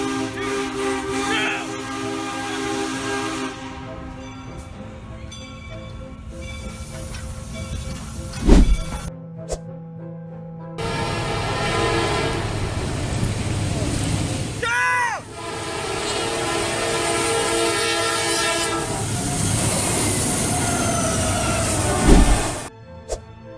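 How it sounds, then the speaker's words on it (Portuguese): A train rumbles through a level crossing with a loud horn blast and clattering, heavy rolling noise, plus sharp impacts as it strikes a vehicle and a brief gap in the din. "quando o trem chegou ao cruzamento e atingiu o veículo"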